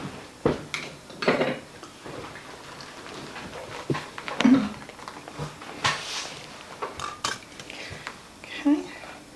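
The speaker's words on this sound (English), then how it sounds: "I think I'm going to get a bigger spoon for that." Metal cutlery rattles and clinks against dishes while a bigger spoon is fetched from a kitchen drawer during keto cheesecake dessert preparation, a run of sharp close clatters and scrapes with brief pauses between them.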